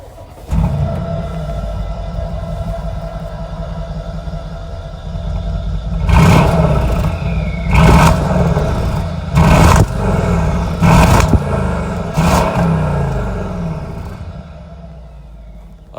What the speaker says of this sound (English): Now to power up the V8 and hear how it revs.